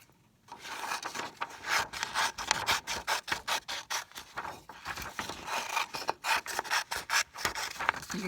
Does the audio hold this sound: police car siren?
no